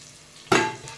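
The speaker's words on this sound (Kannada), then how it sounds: "ಉಳಿದ ಅರ್ಧ ಈರುಳ್ಳಿ ಇವಾಗ ನಾನು ಫ್ರೈ ಮಾಡಲಿಕ್ಕೆ ಹಾಕ್ತಿದ್ದೇನೆ" Onions dropped into a hot pan while a Mangalore-style fish curry is made burst into a sudden sharp sizzle that fades quickly within a second, with no voices.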